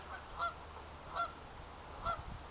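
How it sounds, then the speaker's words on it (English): Three honks from geese at a steady pace, fairly distant and soft, over a quiet outdoor background. "Oh, and some geese."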